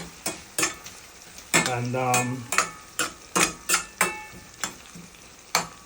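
Onion and tomatoes fry in a pot, with a soft sizzle under repeated sharp scraping and clinking from a stirring utensil, plus a brief voice.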